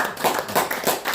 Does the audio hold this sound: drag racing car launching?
no